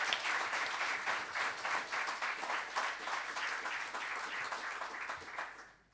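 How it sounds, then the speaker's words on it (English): Audience in a debate chamber at an education forum giving a round of applause, fairly faint, distant clapping that holds steady, then fades out at the end. "on my left, a round of applause,"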